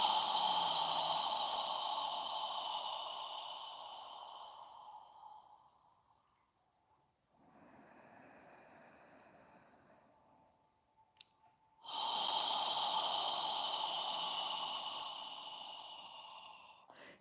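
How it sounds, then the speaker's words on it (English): Slow, deep breaths exhaled through an open mouth during a seated yoga session, long soft airy rushes separated by quieter pauses, close and fairly loud with no talking. "exhale with your mouth open, as if you're fogging a mirror with your breath"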